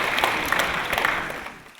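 Church congregation clapping in applause during a Sunday worship service, a dense, steady wash of many hands that holds evenly and fades slightly at the end, with no talking over it.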